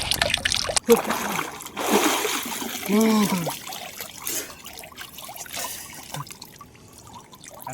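Water splashes and trickles in bursts as someone bathes in a river, with someone talking over the splashing.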